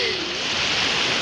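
Sea waves wash on a beach in a steady, moderately loud broadband rush, with a brief faint tonal sound near the start and no clear speech.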